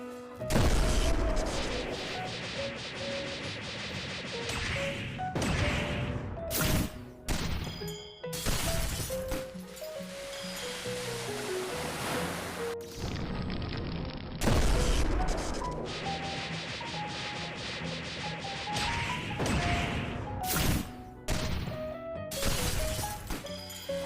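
Combat from the video game Blox Fruits played on mobile, a Sun fruit and Black Leg combo firing loud crashing booms, whacks and blasts in rapid bursts with brief gaps, set against continuous game music.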